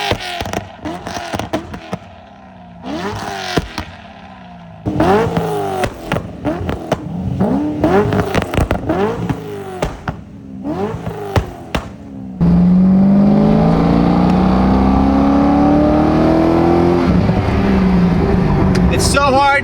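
A Corvette fitted with a new Cook's exhaust system revs sharply several times between shifts. It then pulls into a long, loud, rising acceleration drone up close.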